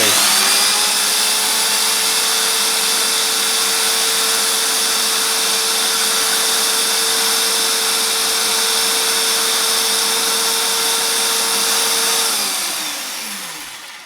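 A power drill runs steadily at constant speed for about twelve seconds, a sustained whine, drilling while making a tap wrench, then winds down and stops near the end.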